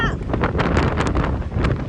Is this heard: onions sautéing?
no